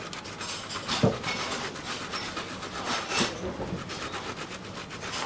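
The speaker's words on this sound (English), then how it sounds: "So now I'm doing the grating." Apple being grated by hand for a dessert in a camp kitchen, soft repeated rasping strokes at a steady rhythm, fairly quiet and close, with a couple of sharper scrapes.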